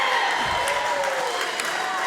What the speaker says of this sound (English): Crowd is loving it, Storms.